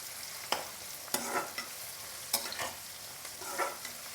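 Onions and capsicum sauté in a hot pan for a spicy tri-colour capsicum prawn gravy, a soft steady sizzle broken by several sharp scraping stirs of the spoon, close and moderately quiet with no talking.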